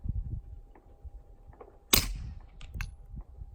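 A suppressed gunshot fired with Hush subsonic ammunition through a CGS Kraken suppressor on a Zev Pulse pistol gives one short, muted crack with a brief tail, close and alone among faint rustles and clicks.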